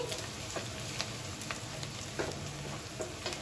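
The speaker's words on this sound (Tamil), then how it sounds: "வெங்காயம் நல்லா கோல்டன் ப்ரௌன் கலர்ல வர வரைக்கும் நல்லா வதக்கிக்கோங்க" Onions sizzle steadily in hot oil in a pan, frying toward golden brown as the base for a Kerala-style mutton curry, with a faint continuous crackle and occasional light stirring ticks, no voices.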